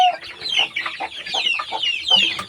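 A local chicken that has got out clucks repeatedly, close and loud, in quick, uneven bursts that continue throughout.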